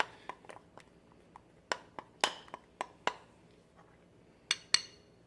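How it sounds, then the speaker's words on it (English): A utensil stirs melted chocolate in a bowl, producing scattered light clinks and taps against the bowl at an irregular pace, close and quiet, with no talk. "let me stir it up a little bit more and just see if we can get it to be that perfect smooth texture"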